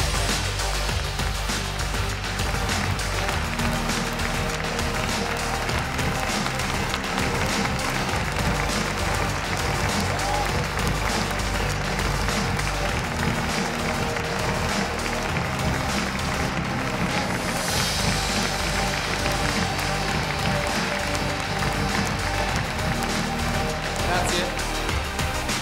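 Sustained audience applause fills a large event hall at the Lamborghini Urus world premiere, honoring Lamborghini's workers; dense, steady clapping runs throughout with crowd noise and some voices beneath.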